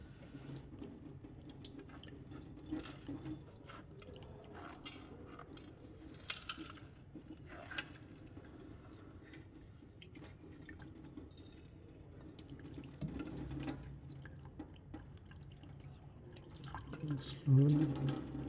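Water trickles and pours slowly from a container during wet sieving of a soil sample in a lab, a faint, steady liquid splashing and dripping that swells slightly toward the end.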